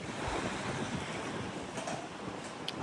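Strong wind and rough sea waves surround a large cruise ship at sea, a steady broadband roar of gusting air and surf with wind buffeting the microphone, continuous and fairly loud throughout.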